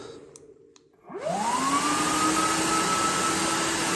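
An EGO 56V cordless wet/dry vacuum with a 9-gallon tank starts after a near-silent second, its motor whining up in pitch and then holding a loud, steady rushing roar to the end.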